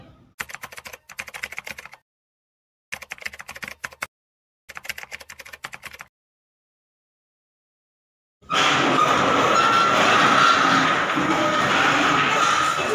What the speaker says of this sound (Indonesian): saya akan mengetik teks proklamasi ini dengan baik